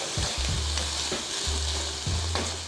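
A spoon stirs a no-crust pizza bowl mixture in a bowl, scraping and clinking close by in a few repeated strokes, with a low steady background hum and no talking.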